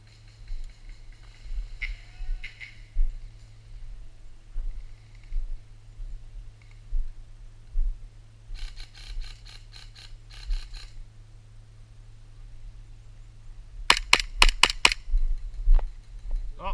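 Airsoft guns firing in the distance at an outdoor airsoft festival, heard as faint rapid clicking bursts in a few short volleys over a low steady hum.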